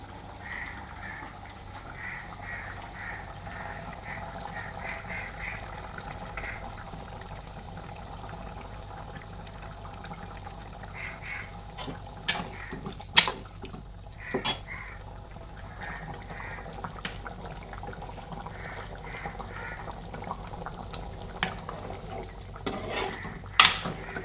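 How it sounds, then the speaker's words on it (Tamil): A pot of tamarind fish curry bubbling and simmering steadily, with a continuous low gurgle and occasional sharper pops and clicks near the end. "குழம்பு நல்லா தளத்தளன்னு கொதிக்குது"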